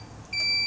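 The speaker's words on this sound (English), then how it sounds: "once it's done, you'll hear a beep." A heat press signals the end of its cycle with a single steady electronic beep that starts abruptly and holds, close and clear, with no talk.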